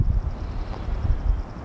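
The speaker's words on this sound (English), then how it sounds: "Sorry about the wind today. It's just nasty weather here in Houston." Low, rumbling buffeting of wind hitting a microphone outdoors in stormy weather in Houston, continuous and uneven, with no voices or other sounds.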